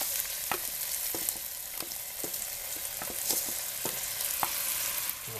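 Rice tipped into a pan of frying garlic for garlic rice, a steady close sizzle broken by repeated sharp scraping and stirring clicks, with no talking.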